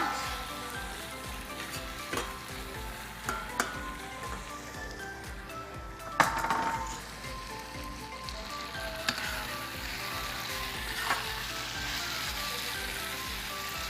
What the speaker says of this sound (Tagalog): I will now add the oxtang na napakulo na po to.